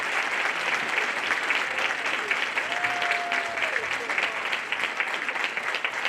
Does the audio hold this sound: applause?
yes